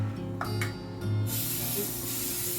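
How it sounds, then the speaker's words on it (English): Cooking spray hisses from an aerosol can into a muffin pan in a kitchen, a short burst followed by a steady, close hiss. "I'm going to shake up the spray"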